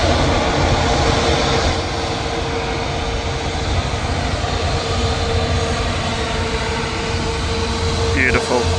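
A large airliner arriving at Manchester Airport gives a loud, continuous roar of engines across the whole stretch, nearby and steady, with a voice talking over it briefly.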